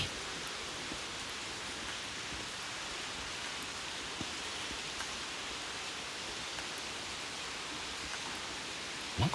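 Heavy rain pours steadily at night near the Tonoyama Tunnel in Kanagawa, a dense, even hiss lasting throughout with occasional drips and rustles.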